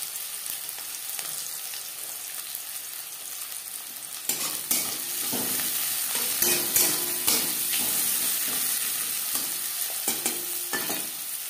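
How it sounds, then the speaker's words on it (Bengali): Sliced and ground onions fry lightly in a pan for potato chicken curry. A soft hiss swells into steady sizzling about four seconds in, broken by occasional stirring scrapes and clinks, close up with no voices. "পেঁয়াজ হালকা করে ভেজে নেব।"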